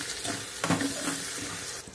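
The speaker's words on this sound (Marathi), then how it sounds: "आता हा मसाला आपल्याला परतून घ्यायचा आहे." Masala sautéing in hot oil in a kadhai while it is stirred, a steady close sizzle and hiss with soft scraping stirs and a brief louder clatter partway through.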